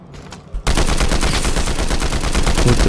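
Sustained rapid-fire bursts from the new combat assault rifle in Fortnite, loud and continuous after a brief quieter moment, with dense overlapping shots filling the rest of the stretch.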